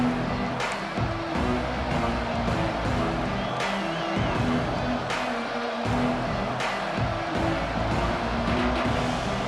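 Stadium crowd in a college football video game, a dense, continuous roar of cheering and noise that stays loud and steady throughout, with a commentator's voice running underneath.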